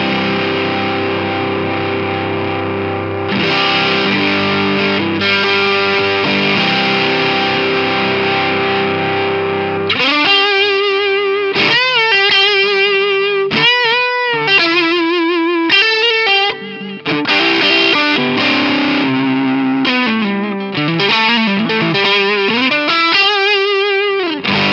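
Electric guitar played through a BOSS BD-2 Blues Driver overdrive pedal, starting with sustained distorted chords and then moving into bright, bending lead lines with a lot of presence, loud and close with no talking.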